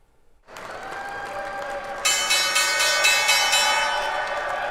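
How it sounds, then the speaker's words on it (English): A stock exchange closing bell rings in rapid repeated strokes, loud and metallic, soon joined by applause from a crowd. "The closing bell marked the end of trading on the stock exchange."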